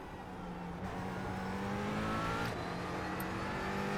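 A McLaren 570S GT4 racing at Hockenheim in iRacing drones at a steady, moderately loud pitch, holding the same sustained engine whine throughout.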